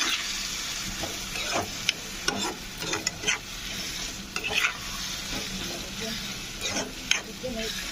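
Pakodi curry stirred in a hot pan, a constant close sizzle with repeated spoon scrapes and clatters against the pan throughout.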